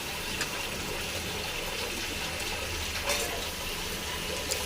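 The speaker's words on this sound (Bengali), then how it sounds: "এবার দিয়ে দেবো পরিমাণ মতো জল।" Water poured into a pan of cooked-down spice paste for a katla fish curry, giving a steady, fairly loud gushing pour that runs continuously with no talk.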